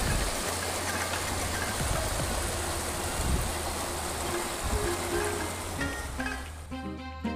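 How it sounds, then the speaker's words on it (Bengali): Below Maithon Dam, the Barakar river runs in several small streams, making a dense, steady rush of water that holds constant throughout. A faint mechanical clatter rises near the end. "ড্যাম থেকে বেরিয়ে এসে ছোট ছোট ধারায় বয়ে চলেছে এই বরাকর নদী"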